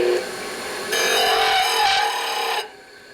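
A grinder rasps against an engine part from a 1958 Harley-Davidson 74ci panhead being rebuilt, a harsh scraping drone that swells louder midway, then cuts off abruptly.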